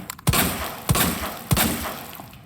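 Three evenly spaced, loud gunshots in a Resident Evil game, each a sharp crack with a brief echoing tail, fired about half a second apart.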